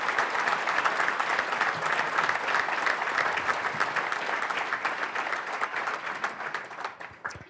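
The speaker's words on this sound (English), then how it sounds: "please give him a big round of applause for him" A large dinner audience at the Wyoming Forum breaks into sustained applause, dense and even clapping filling the room for several seconds before tapering slightly at the end, with no clear speech over it.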